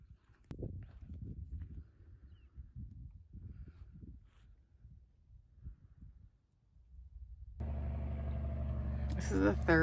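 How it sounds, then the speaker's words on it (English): A logging truck passes on a remote forest road on BLM land. Low rumbling and thumping sounds come first, then a loud, broad engine roar swells and builds steadily toward the end. "This is the third logging truck I've seen this morning."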